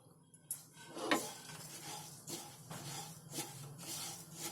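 Milk powder and other ingredients being dry-roasted in a pan on a gas stove, quiet scraping and stirring strokes with soft rubbing and faint sizzle, close and low in level, no talk.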